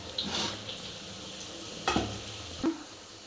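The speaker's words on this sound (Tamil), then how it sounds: "இப்போ மீன் நம்ம பொரிச்சுக்கிடுவோம்." Soft frying sizzle of fish in oil with a few sharp clinks of a utensil against the pan, fairly quiet and close.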